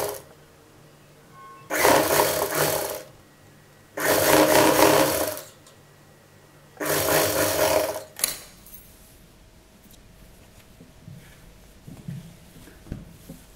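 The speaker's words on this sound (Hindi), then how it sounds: "यहाँ किनारे पर हम सिलाई लगाकर डोरी कंप्लीट कर लेंगे।" An electric sewing machine stitches a fabric drawstring in three loud, steady whirring runs of one to two seconds each, separated by short pauses, then falls quiet apart from faint handling sounds.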